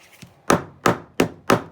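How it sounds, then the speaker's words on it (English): A hand tool pounds down sharp, pokey bits on a sewn piece. Four firm, evenly spaced thumps land close and clear, each with a woody knock and no voices over them. "I'm just gonna give it a little pound down."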